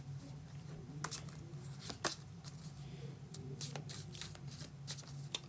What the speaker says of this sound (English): it's getting shuffled back in the deck